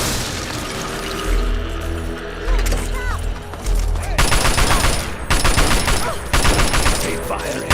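Rapid gunfire erupts in a Fallout 3 firefight: loud, dense bursts of automatic shots mix with heavy booms and crashes. Volleys come close together and grow more frantic in the second half.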